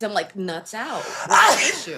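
A single sharp sneeze bursts out amid casual talking, close and loud, with voices speaking before and after it.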